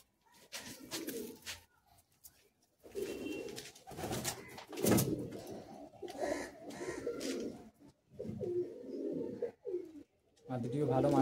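A breeding pair of Madras pigeons being handled, with soft cooing and throaty bird calls close by, interrupted by rustling and handling noises while someone talks throughout.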